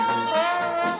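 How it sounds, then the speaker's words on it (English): Trombone within a band, picked up by the trombone's close mic on a Zoom Q8 recorder, a sustained brass tone heard among the other instruments rather than standing out clearly. "And then the trombone mic"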